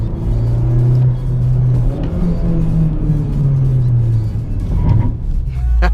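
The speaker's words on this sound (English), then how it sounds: "the third gear pull, you'll feel the tires kind of losing grip as the turbo and VTEC kick in" A Honda Civic Type R on all-season tires pulls hard in third gear as the turbo and VTEC come in. Its loud engine drone climbs steadily in pitch over a constant road rumble, with no talking.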